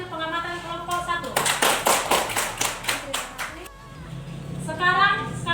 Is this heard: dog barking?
no